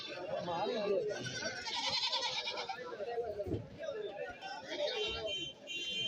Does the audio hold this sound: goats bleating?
yes